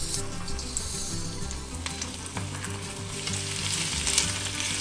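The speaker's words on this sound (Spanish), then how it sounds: "En un poco de aceite caliente freímos unas rebanadas de cebolla y un diente de ajo." Onion slices and a garlic clove fry in hot oil for fish tacos, giving a steady, close, crackling sizzle with faint stirring and no talk.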